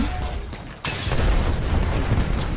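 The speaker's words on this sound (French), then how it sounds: "il lance des grenades, là, il a hyper mal lancé" A grenade in a shooter video game goes off with a sudden heavy blast. A loud, broad rumble follows and carries on to the end, after a quieter stretch of game noise.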